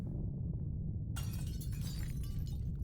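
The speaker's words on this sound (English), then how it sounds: "Sounds of shattering glass ring out from the hallway." Glass shatters suddenly in a hallway, a bright crashing burst over a constant low rumble that lingers for over a second.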